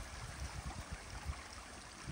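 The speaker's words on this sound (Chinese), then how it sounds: "终于找到一个很小的小溪" A very small, shallow upstream creek in Taiwan flows with a faint, even gurgling wash and soft low burbles, quiet and steady without voices.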